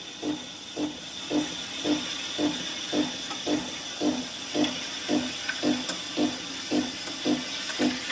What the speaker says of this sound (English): you can do both steaming of milk and extraction of coffee at the same time